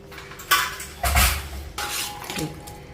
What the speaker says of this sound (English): Pressure is released, we open the lid.